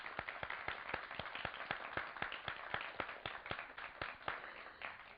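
A studio audience at a Pakistani weekend talk show claps in a steady run of sharp, evenly spaced claps, moderately loud and without talk, thinning toward the end.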